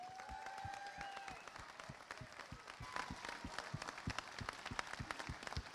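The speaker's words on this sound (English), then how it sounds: "Let's give him a round of applause and say thank you." An audience at a 9/11 memorial stair climb event applauds, scattered claps mixing with whistles and crowd murmur, building louder toward the end.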